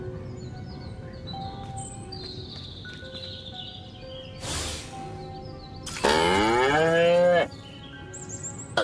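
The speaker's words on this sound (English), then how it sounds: "Again with the moo?" A cow moos loudly once in the video game Destroy All Humans, a long drawn-out call rising above a steady game soundscape with faint chimes and a brief whoosh before it.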